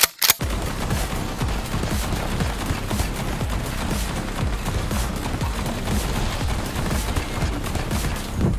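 Olympia shotgun firing in Black Ops 6 Zombies, a sustained, loud barrage of rapid shots and impacts that carries on without pause, mixed with game gunfire and no talk.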